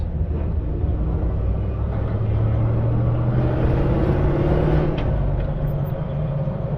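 Stage One V8 engine of an ex-NZ Army Land Rover on the move, off-road tyres fitted, a constant deep rumbling drone with a slowly rising and falling tone, loud and close, with no talking.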